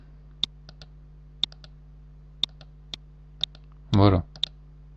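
Sharp mouse clicks on a sprite in a Scratch program on a computer, a dozen or so crisp, close ticks at uneven intervals, with one brief voiced sound near the end.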